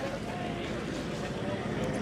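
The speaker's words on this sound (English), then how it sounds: "That's the sound of another year at the ploughing" Outdoor crowd ambience at the National Ploughing Championships fair in Ireland, a steady wash of distant chatter, movement and background noise with no single sound standing out, continuous and moderately loud throughout.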